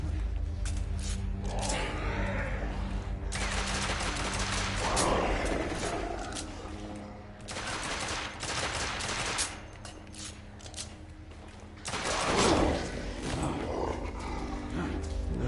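Gunfire and monster roars in The Order: 1886, a Victorian-era third-person shooter, with dense bursts of shots and growls layered over continuous game noise, rising in several loud waves across the stretch.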